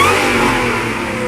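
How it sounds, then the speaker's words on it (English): A Saleen 570X Challenger's engine revs loudly and close by, a sustained, rising roar that holds strong throughout with no speech. "watch what happens when you actually rev it"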